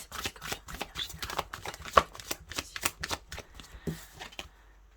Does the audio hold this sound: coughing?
no